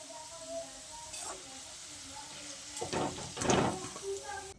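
Sliced onions frying in oil while being stirred continuously into crisp beresta for chicken biryani: a steady soft sizzle and hiss, swelling into louder stirring and spluttering toward the end, with a voice talking over it.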